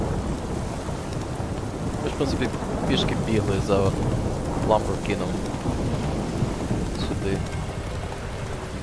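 A night thunderstorm in the video game The Witcher 3, with heavy rain drumming steadily and low rumbles of thunder rolling underneath, while someone talks over the storm.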